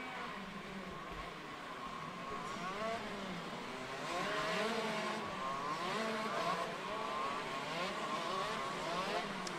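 Shifter kart engines idle and rev together on the grid ahead of a standing start at the ROK Cup Superfinal prefinals, a steady layered two-stroke drone with rising and falling pitch sweeps, moderately loud throughout with no talk.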